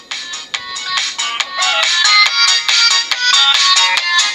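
Bright high-pitched music played through a 234XL crossover's high output with the x10 setting engaged, a fast run of trebly notes at steady loudness without low end, no talking.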